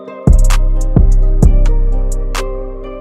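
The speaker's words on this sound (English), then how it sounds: "So the 808 sounds like this with the melody" Deep 808 bass booming under a bright guitar-flute melody in a trap beat, with three heavy hits about half a second apart and a long sustained tail, loud and alone.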